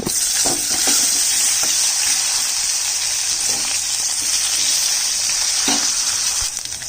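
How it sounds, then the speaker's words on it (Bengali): Tomatoes added to frying potatoes in a pan of mustard oil sizzle loudly and continuously, with occasional stirring knocks under the hiss. "দিয়ে দিচ্ছি টমেটো।"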